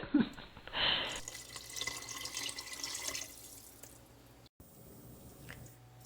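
Ten cups of water pour steadily into a pot of vegetables for broth, a continuous splashing rush with a few drips and clinks at the start.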